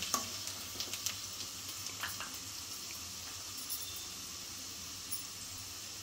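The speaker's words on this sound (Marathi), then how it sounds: "कांदा परतून घ्यायचा थोडा।" Onion sautéing in a pan for a ridge gourd (shirale) vegetable dish, giving a soft, steady sizzle with faint scattered clicks of stirring, fairly quiet and without talk.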